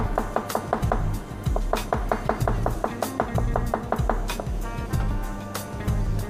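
Garlic minced with a knife on a wooden board, with rapid, regular close chopping taps, about several per second, continuing evenly and alone.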